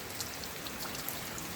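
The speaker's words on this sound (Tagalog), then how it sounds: "Ngayon, nagpa-blessing ka ng ulan." Rain falls beside a house in a steady, close wash of patter with faint scattered drip accents, continuous and even with no voices.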